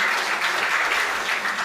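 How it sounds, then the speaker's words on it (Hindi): Dense, steady applause from an audience at a Hindi comedy poetry show, a continuous wash of many hands clapping with no talk. "आप अपने सम्मान में जोरदार तालियां बजाइए भाई।"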